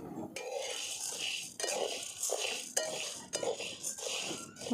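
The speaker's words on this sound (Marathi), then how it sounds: "आपल्याला याच्यातच आता परतून घ्यायचं आहे चांगलं थोडं गरम करून घ्यायचं आहे" Peeled potatoes and roasted peanuts are stirred in a dry pan with no oil, the spoon scraping and clinking against the metal in repeated close strokes throughout.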